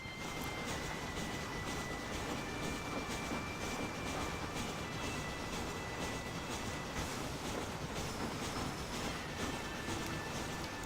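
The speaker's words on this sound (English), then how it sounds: "just realising maybe that train noise is a little bit loud." A steam-era train ride in Red Dead Redemption rolls on with a loud, continuous rumble and rattle of railroad cars, faint clickety-clack of wheels and a thin metallic whine, steady throughout with no speech.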